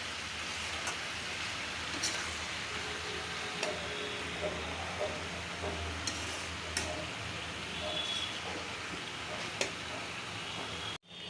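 Prawns with fresh coriander leaves stirred and fried in a pan, giving a steady, close, rain-like sizzle with light scraping stirs throughout, no talk, ending abruptly.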